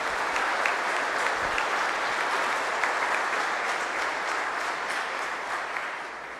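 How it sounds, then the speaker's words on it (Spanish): Loud, sustained applause from a large church congregation at a Holy Hour service, dense steady clapping that carries on for several seconds before easing slightly at the end. "Le damos un aplauso a Dios que está con nosotros."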